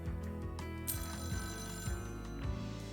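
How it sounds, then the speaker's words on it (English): A telephone ringing with a repeated electronic bell tone, steady and moderately loud over a constant background hum. "Hold on, I got a phone call."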